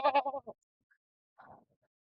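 A goat bleats loudly nearby in a quavering burst of several pulses, then after a pause gives a fainter, shorter second bleat, with no talking.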